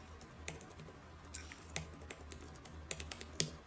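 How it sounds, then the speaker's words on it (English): Quiet clacking of a computer keyboard being typed on, with irregular bursts of keystrokes and a few louder taps, heard alone against a low background hum. "I'm typing on my computer as we speak."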